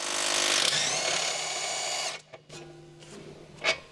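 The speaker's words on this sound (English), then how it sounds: "Use a 14mm deep socket with an electric impact wrench to remove the two mounting bolts of the rear bushing on the lower control arm" An electric impact wrench with a 14mm deep socket runs on the rear bushing mounting bolts of a lower control arm on a 2007 Honda CR-V, giving a loud, steady whir for about two seconds before cutting out, followed by quieter clanks.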